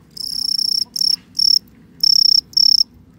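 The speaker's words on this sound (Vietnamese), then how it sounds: "Mình sẽ mang 10 con dế vào để thủ cái thành trì này." Ten fighting crickets brought in to guard a fort setup chirp in several bursts of high, shrill trills, near and loud, separated by short pauses, over a low steady background hum.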